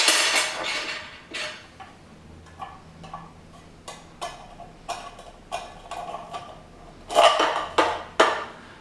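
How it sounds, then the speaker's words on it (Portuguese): Metallic clicks and scrapes as a screw is pushed through tin cans and a broomstick dowel, sounding as a dozen sharp taps at irregular intervals, close and fairly quiet, with a faint hum underneath. "Então a gente enfia por dentro o parafuso."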